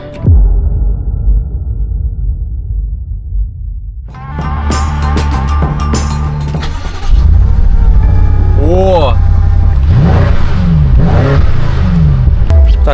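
A BMW M5 F90 engine idles, then revs repeatedly with rising whines, loud and close, while a voice talks over it.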